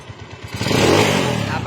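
A pushrod motorcycle engine with a newly fitted performance timing gear revs up from a low throb into a loud, rising roar with vibration and exhaust note, very close to the listener.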